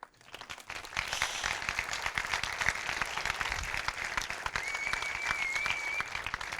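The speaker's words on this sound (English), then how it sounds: "this deserves a round of applause" Sustained applause from a conference audience at a Vue developer event, a dense, steady wash of many hands clapping that swells in after a quiet start and continues without talk.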